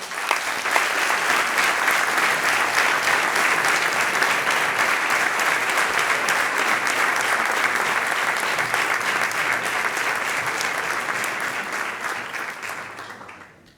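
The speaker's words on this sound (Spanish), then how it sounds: "Por favor, un aplauso para ellas." Sustained applause from a crowd at the official Holy Week proclamation in Jódar, 2025, loud and steady throughout, fading slightly at the very end.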